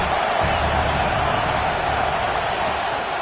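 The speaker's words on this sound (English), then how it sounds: "how nice is it to have the home crowd going absolutely bananas" Home crowd at a football game roaring steadily, a dense continuous wall of cheering with no breaks across the whole stretch.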